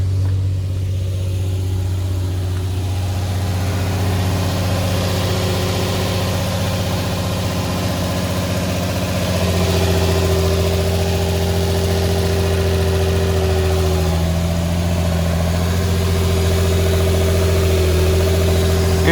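Infiniti G35 engine idling steadily on a cold start, a loud, constant low hum with a faint rise in pitch midway, close by and without voices.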